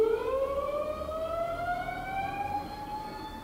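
A 2008 Haas TL-4 CNC lathe spindle spins up to 100 RPM with a rising, siren-like whine that climbs in pitch and then holds steady, loud and close, with no voices.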